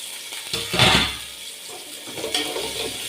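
Chopped square onion pieces and green chillies dropped into a pot for chicken mandi, giving a brief clatter and a wet splashy sizzle near the mic, then a softer second rustle, with no talk.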